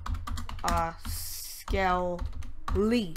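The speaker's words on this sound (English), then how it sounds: "Sorry, typing." Rapid computer keyboard typing during a Minecraft gaming session, close and clicky, in brief bursts between a man's speech.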